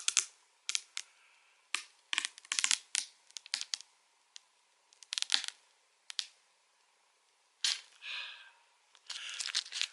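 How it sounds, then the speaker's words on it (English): Protective film is peeled off a new smartphone gimbal in a series of short, sharp crackling tears and crinkles, close and irregular, separated by brief quiet gaps. "it's still got the peely, which I'm going to peel off because it's really satisfying doing it"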